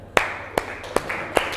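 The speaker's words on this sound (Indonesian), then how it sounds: "Iya, baik, tepuk tangan." Students in a classroom clap a few times at a steady pace, four sharp claps about half a second apart, close and fairly loud over quiet room noise.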